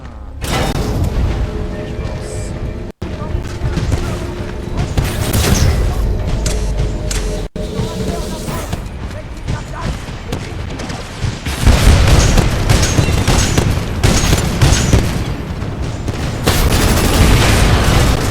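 Tone titan in Titanfall 2 firing guided missiles, a dense run of heavy booms and rapid explosive bursts with mechanical clatter, growing louder and busier in the second half.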